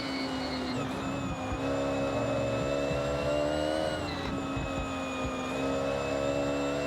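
A Ferrari 458 racing car in Forza Horizon revs hard under acceleration, its high engine tone climbing steadily through the gears with a brief dip at a shift, loud and continuous throughout.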